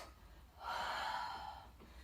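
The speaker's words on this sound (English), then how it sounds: "So as I lean forward, I'm going to breathe out" A single audible breath out during a seated exercise, a soft, close, breathy rush lasting about a second as the person leans forward, followed by quiet.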